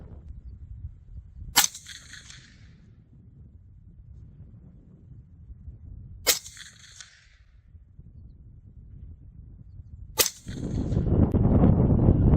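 Three sharp rifle shots firing .223 Hornady soft point rounds through a Wylde barrel at the range, evenly spaced several seconds apart over wind noise, with a rush of wind at the end.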